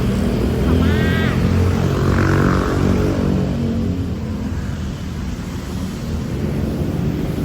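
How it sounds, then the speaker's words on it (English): Loud traffic on Sukhumvit Road in Bangkok makes a steady, heavy roar of engines and road noise with no break, with a short high tonal sound, like a horn or whistle, near the start. "Cars are loud on Sukhumvit sometimes."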